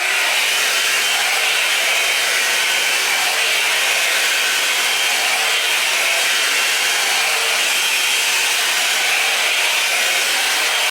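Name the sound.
hair dryer blow drying hair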